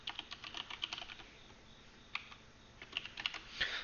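Rapid keystrokes on a computer keyboard as code is typed while setting up an Azure worker role cloud service, with irregular clicks and short bursts of faster typing, close and clear with no talking.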